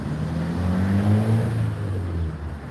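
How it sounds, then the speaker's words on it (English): Street traffic passing an outdoor local-vendor market on a city street, a steady low engine drone with a vehicle rumbling by close, continuous and fairly loud, no voices. "Hopefully you guys can hear us over all the traffic and everything."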